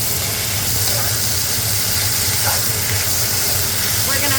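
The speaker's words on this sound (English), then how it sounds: "We throw in the beef." Shredded beef hits hot ginger-infused oil and sizzles with a loud, steady hiss that holds evenly from start to finish.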